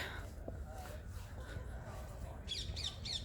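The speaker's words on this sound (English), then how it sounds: "Did you hear the parakeet?" A parakeet in a London park gives a few quick, harsh squawking calls near the end, faint and somewhat distant over low outdoor rumble.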